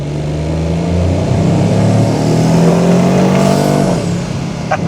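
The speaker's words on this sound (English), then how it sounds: "let's have some fun and hear that turbo and exhausts." Turbocharged three-cylinder engine and exhaust of a 2025 Toyota GR Yaris with manual gearbox while driving: a loud, sustained rasping drone that rises in pitch under acceleration and dips at a gear change, with a faint turbo whistle.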